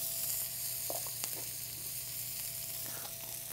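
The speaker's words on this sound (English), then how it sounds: "So we're gonna add our vegetables. We've got some onion. We've got a couple different colors of pepper here." Onion and mixed bell peppers sizzling in a hot pan for ratatouille, a steady crackling fry with a few soft stirring scrapes and clinks, close by and with no talking.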